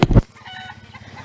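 Chickens and other farm poultry, with a brief loud squawk at the start followed by softer clucking and rhythmic calling that carries on, heard nearby with no talk.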